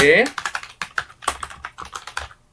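Bengali text is typed on a computer keyboard. A quick, uneven run of close, crisp keystrokes follows a brief voice at the very start.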